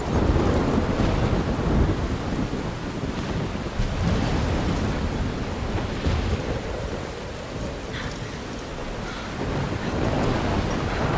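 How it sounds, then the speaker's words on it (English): Heavy rain and rumbling thunder from a storm in the video game Life Is Strange fill the scene continuously and loudly, with broad wind-like noise and deep rolls of thunder throughout, no voices. "I'm trapped in a storm?"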